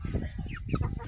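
Chickens cluck in short, low, close bursts through about a second, with a few overlapping calls.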